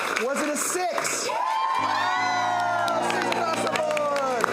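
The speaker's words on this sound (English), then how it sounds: "Keep that applause going for all your players coming to the stage." Crowd cheers, whoops and claps loudly and continuously for game-show players coming to the stage at a live Friday night showdown event, with shouts and a voice rising through the din.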